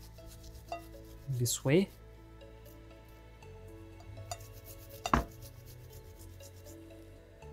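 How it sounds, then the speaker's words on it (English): Frozen chicken scraped against a grater in a home kitchen, giving a couple of short rasping bursts among scattered knocks, with someone talking over it. "grab another portion of it and continue to grate it"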